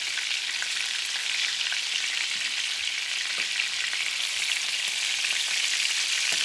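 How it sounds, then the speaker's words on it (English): Big meatballs fry in a pan for tomato-sauce sandwiches, giving a steady, loud, close sizzle that runs unbroken throughout, with faint scrapes as they are moved around. "When you're cooking with big meatballs, it takes some skills to move the stuff around."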